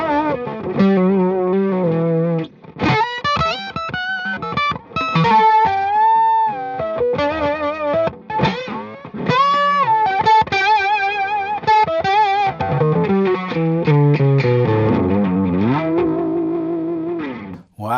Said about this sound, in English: let's try more of the clean octave boost kind of a thing now